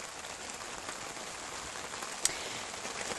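Steady rain pattering on a surface, a dense, even hiss throughout with one brief sharper drip partway through.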